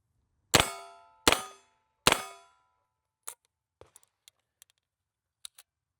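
An HK MP5 submachine gun fires three loud, sharply ringing shots with its stock folded, each blast decaying quickly, followed by faint metallic clinks and taps of brass and handling.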